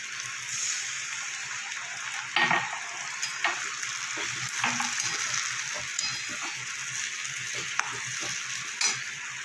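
Steady sizzling of ginger and green chillies frying in a pan for chicken curry, close and constant, with occasional clinks and scrapes of stirring.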